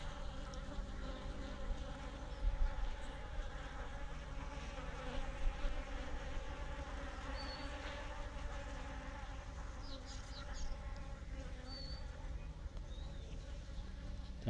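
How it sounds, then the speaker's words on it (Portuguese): Bees buzz steadily around blooming pitaya flowers in an orchard, a continuous close-up insect drone with faint wing whines rising and fading over it. "a polinização é feita pelas abelhas, não é polinização manual"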